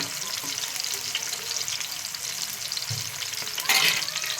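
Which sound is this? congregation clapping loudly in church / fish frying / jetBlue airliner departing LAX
fish frying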